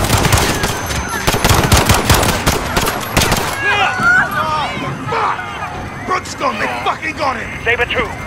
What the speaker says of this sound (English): Shots fired, officers down.